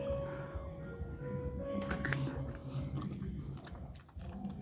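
Someone bites into and chews ripe mangosteen fruit, giving close, wet, soft mastication sounds with a few crunchy bites, under quiet background noise.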